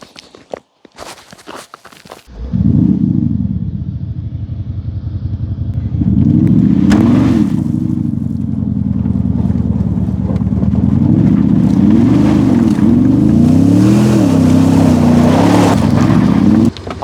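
An Audi S7 engine starts and idles, then revs in several rising and falling surges, a loud, close, deep roar that runs throughout.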